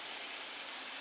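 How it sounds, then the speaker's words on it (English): Water sprinkles steadily onto freshly raked garden soil sown with green manure, a soft, even hiss heard close and alone for a brief moment. "all we need to do now is give it a bit of water"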